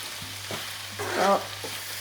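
Onions sautéing in a pan for fish cutlets, a soft close sizzle with a few gentle stirring scrapes over about two seconds.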